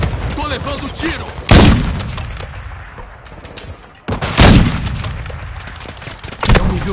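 Intense gunfire in Call of Duty MW2 multiplayer, loud bursts of shots and impacts punctuating continuous combat noise, with game voice chatter mixed in.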